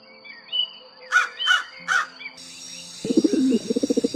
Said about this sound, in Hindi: अरे बल्लू जी, ये तो मौसम के जानकार पंछी है।